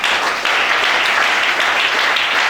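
A church congregation claps and cheers in steady, dense applause that fills the room at a constant loud level, with no talking over it.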